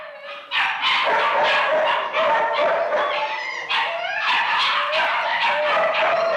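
Dogs bark and yip continuously at close range, several voices overlapping in rapid, excited bursts with some whining.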